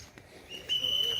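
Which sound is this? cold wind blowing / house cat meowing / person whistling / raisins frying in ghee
person whistling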